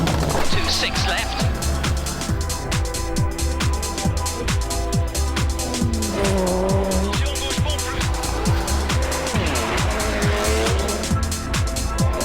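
Rally cars on the Super Special stage at Langley Park during the 1997 Australia Rally, engines roaring loud and continuous with repeated gear changes, high revs and tyre squeal, while a commentator talks over them.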